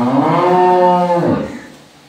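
A single loud, close moo from a dairy cow holds steady for over a second, then tails off into quiet.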